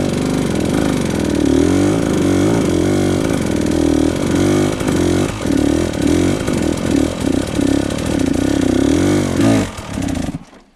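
An enduro motorcycle engine runs loud and close during clutch control practice, revving up and down in repeated rhythmic pulses before cutting off at the end, with no talking.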